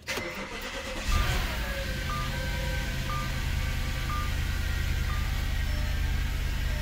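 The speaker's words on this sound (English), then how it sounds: "hop in the car and fire it up" An Audi A6 C6 engine cranks and catches with a sharp rise, then settles into a steady, loud idle that hums on without a break.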